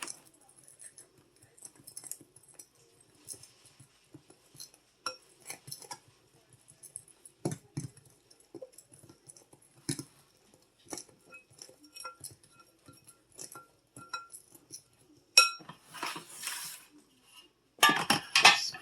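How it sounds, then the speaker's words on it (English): Utensil clinking against a bowl while milk is stirred into dessert batter, scattered light taps and scrapes, quiet and close, building to denser clatter near the end. "I'm going to pour some and mix. Pour the rest and mix."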